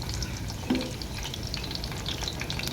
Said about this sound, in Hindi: देखिए माशाल्लाह से हमारे जो नगेट्स हैं वो कितने मज़ेदार ज़बरदस्त से फ्राई हो रहे हैं।